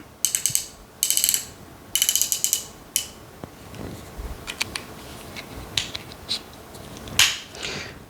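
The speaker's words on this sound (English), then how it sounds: "This one gives you anywhere an adjustable 0 to 10mm guard. As you can see, it is sliding out." Adjustable 0 to 10mm beard guard on a Ballber Pro trimmer sliding out, giving sharp plastic ratcheting clicks in quick bursts, then scattered softer clicks and a few louder snaps, close up with no talking.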